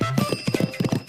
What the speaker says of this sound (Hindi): मैं इस घोड़े की सवारी करने जा रहा हूँ।